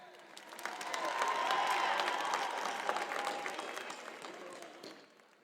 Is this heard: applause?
yes